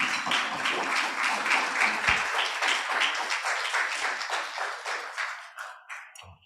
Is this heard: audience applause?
yes